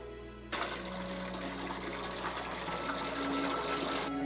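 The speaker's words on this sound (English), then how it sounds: "Robin was thirsty, so I went to fill up the water bottle." Tap water pours into a water bottle: after a short pause a steady, close hiss of running water starts and keeps going evenly for several seconds with no speech over it.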